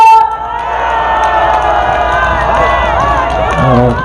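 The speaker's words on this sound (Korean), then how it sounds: "여러분, 큰 박수 주십시오" A large crowd cheering and shouting loudly with applause mixed in, a continuous roar of voices and whoops close by, at an outdoor presidential election campaign rally at Suwon Station, South Korea.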